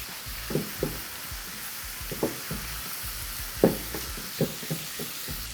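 Onions, garlic and habanero pepper sizzle in a pan with a soft steady frying hiss, broken by occasional scrapes and taps of a utensil stirring, close and moderately quiet with no voices.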